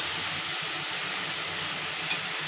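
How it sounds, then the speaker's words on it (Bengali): Bitter gourd (karela) frying on a stove, a quiet, steady hiss and sizzle running evenly throughout with one faint brief click near the end. "এই চুলায় করলা ভাজিটা বসায় দিচ্ছি"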